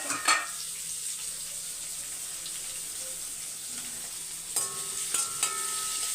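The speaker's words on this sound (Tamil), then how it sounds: "வெங்காயம் வந்து பாதி வதங்கட்டும்." One large chopped onion sautéing in a pan with a green chilli, a continuous soft sizzle with occasional stirring clatter near the end, no voices.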